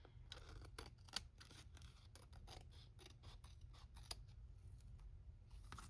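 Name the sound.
cutting with scissors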